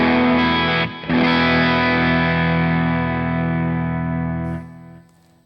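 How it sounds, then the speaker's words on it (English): Sustained overdriven electric guitar chord through an overdrive pedal, ringing out with spacious stereo delay and reverb, briefly cut once, then fading away near the end. "I'll be turning on stereo delay and reverb and turning on an overdrive"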